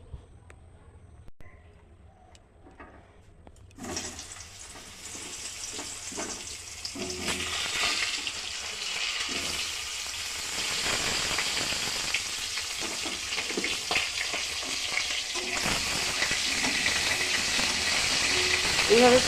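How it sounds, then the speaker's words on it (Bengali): Pointed gourd (potol) frying in oil in a wok: after a few quiet seconds a steady crackling sizzle starts, close and continuous, and slowly grows louder and denser. "পটলটা প্রথমে ভেজে নেব।"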